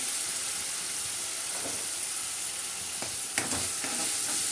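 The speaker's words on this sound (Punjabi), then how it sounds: "ਹੁਣ ਆਪਾਂ ਇਹਨੂੰ ਮਸਾਲਾ ਭੁੰਨ ਲਾਂਗੇ ਚੰਗੀ ਤਰ੍ਹਾਂ" Masala of ginger, garlic, green chillies and tomatoes roasting in hot oil in a pan, a steady loud sizzle with a few scraping stirs of a spoon, no talking.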